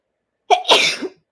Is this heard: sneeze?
yes